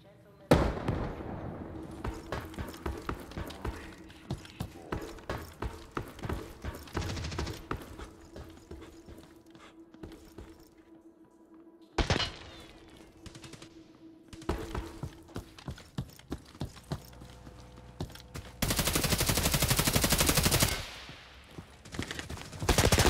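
Gunfire in the PC tactical shooter Hired Ops: dense bursts of rapid shots and clattering fire over a steady hum, with a louder sustained roar of firing near the end and in-game voice callouts in between.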